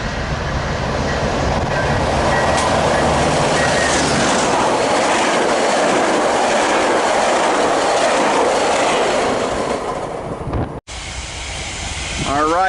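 Passenger train 1664 bound for Oceanside rolling past at Commerce, a loud sustained roar with hissing and wheel clatter, close by, ending in a sudden cut and brief squeal.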